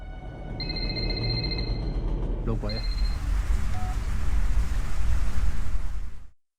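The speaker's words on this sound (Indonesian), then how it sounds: "Mendengar suara telepon yang berdering dari arah kamar mandi, Chen dengan sangat tenang menghampiri asal" A telephone rings with a steady electronic trill that stops, then briefly rings again, all under heavy rain-like noise and a voice talking.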